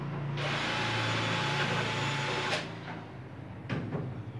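A power drill bores a hole in plasterboard of a gypsum ceiling, a loud steady whir that runs for about two seconds before stopping, followed by a couple of brief clattering knocks.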